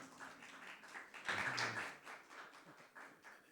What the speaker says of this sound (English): Yes, the applause are appreciated.